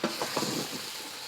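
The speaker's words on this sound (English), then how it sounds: "You want to stir the curry into the meat." Curry being stirred into beef brisket in a pot for Hong Kong style curry beef, a short burst of close wet stirring and light sizzling with no talk.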